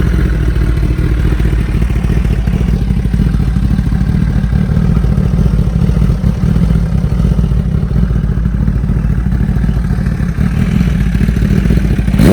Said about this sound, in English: I'm gonna start the bike up,